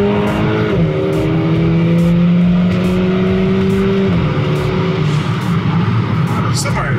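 VW Golf GTI with a catback exhaust pulling hard, engine tone climbing through gears with sharp shift breaks, loud and close, someone talking over it.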